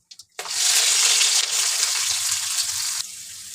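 Crushed garlic, two bay leaves, green chilies and chopped onion hit hot oil with whole garam masala while cooking sidol, a sudden loud close sizzle that hisses steadily for about three seconds before dropping sharply.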